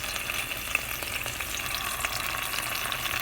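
Sofrito sizzles steadily in a hot pot for Puerto Rican carne guisada, a constant close frying hiss with small crackles throughout and no talking.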